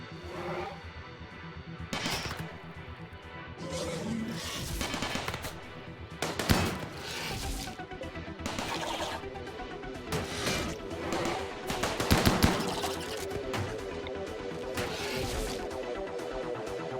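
Turret gunfire in the RimWorld video game as defenses fight off a bug attack at night, heard as repeated bursts of shots and crashes at a steady moderate level throughout, with no talking.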